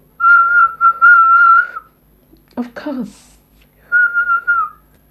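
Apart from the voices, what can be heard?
person whistling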